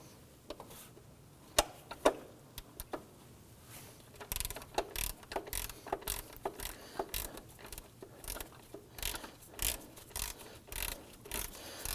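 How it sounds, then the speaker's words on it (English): Ratchet snugging down a bolt on a 2008-2011 Ford Focus 2.0L during PCV hose replacement, scattered clicks and then a run of rapid irregular ratcheting clicks, close but fairly quiet. "we'll be able to jump in there with our ratchet and snug that down"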